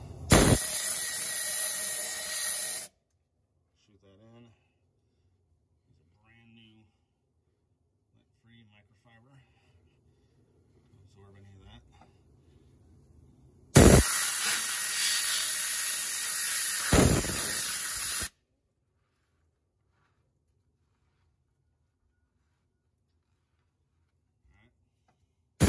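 Compressed air blasts into the top end of a Jeep Wrangler YJ 4.2 liter 258 inline-six engine, two loud hissing bursts of a few seconds each, with quiet talk and handling noises between them.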